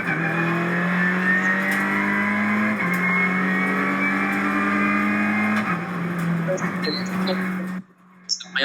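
A touring race car at the start at Magny-Cours, engine holding a loud steady drone with two sharp pitch drops as it shifts through gears, close and continuous before cutting away near the end.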